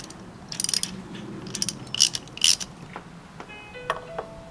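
A hand ratchet clicks in short bursts while snugging a spark plug into a Volvo engine, close and crisp, with pauses and faint metallic ticks between the strokes.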